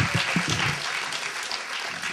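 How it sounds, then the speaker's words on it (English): Applause from a comedy club audience at a stand-up set during the Mixed Roots Film & Literary Festival, cheering two performers; a dense wash of clapping holds steady and fairly loud for the whole stretch, with a few heavier claps at the start. "How about another round of applause for Joe and Josh"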